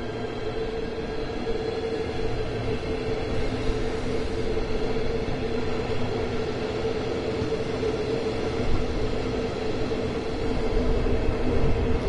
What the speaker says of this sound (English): But I watched the train go out though.